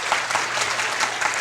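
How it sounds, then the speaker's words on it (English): Audience applause at a Pompe disease patient conference, dense steady clapping from a crowd filling the whole short stretch with no talk over it. "Can we please just give them an applause?"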